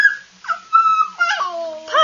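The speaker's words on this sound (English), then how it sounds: "I know you're watching your puppies" Puppies whimper and yip in short, high, wavering cries, several separate whines close by across about two seconds, with brief gaps between them.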